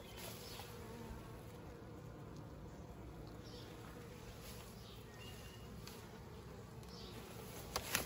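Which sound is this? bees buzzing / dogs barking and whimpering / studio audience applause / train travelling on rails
bees buzzing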